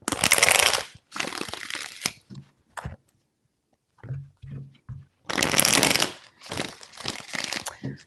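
Tarot cards are shuffled in several quick riffling bursts, with short pauses and a few lighter taps between them, close and clear with no talking.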